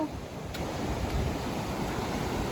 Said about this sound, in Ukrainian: доволі бурхлива річка